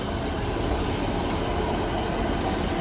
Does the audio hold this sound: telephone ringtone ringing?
no